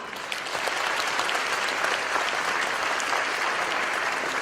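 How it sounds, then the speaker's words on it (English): Sustained applause from a large audience at a ceremony in Arcadia, a dense continuous clatter of clapping hands that holds steady for several seconds. "Please bring down the house with lots of applause."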